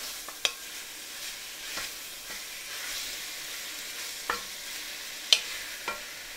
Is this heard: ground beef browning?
yes